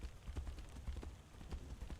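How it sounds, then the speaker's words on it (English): A horse's hooves clip-clop at a steady walking rhythm in the video game Tainted Grail: The Fall of Avalon, the soft, evenly spaced thuds sounding quiet and close, with no other sound over them. "We call the horse."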